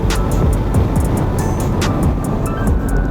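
A 2020 Chevrolet Corvette C8 accelerating hard on the track at Monticello Motor Club, its engine a steady loud roar with wind and road rumble throughout, no voices over it.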